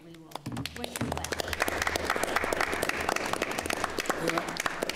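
Attendees clap at a public session meeting. A brief voice opens the sound, then the dense applause quickly builds and holds steady at close range. Murmured voices mix in near the end.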